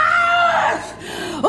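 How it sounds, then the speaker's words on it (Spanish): A grandmother screams desperately in a film scene, a loud, strained wailing cry that falls away and then ends in a short rising yelp. "Ella grita desesperada porque lo reconoció"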